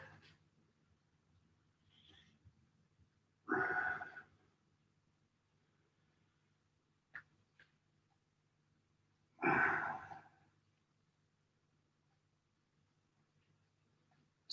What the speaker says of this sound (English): Big deep breaths.